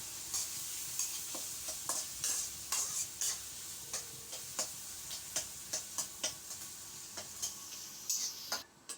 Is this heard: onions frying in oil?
yes